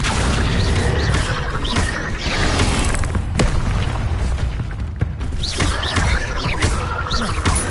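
Spell effects from Depulso and Accio being cast in Hogwarts Legacy on PS5: dense, loud magical whooshes, booms and creaking mechanical bursts, with sharp impacts around the middle and a continuous busy rumble throughout.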